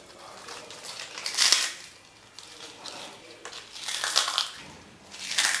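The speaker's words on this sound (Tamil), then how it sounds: "அப்படியே நொறுங்கி வந்துருச்சு பாருங்க." Crispy homemade thattai, a thin fried rice snack, crunches and crackles in several loud bursts as it is snapped apart by hand close by, with quieter rustling in between.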